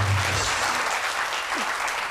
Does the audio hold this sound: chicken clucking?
no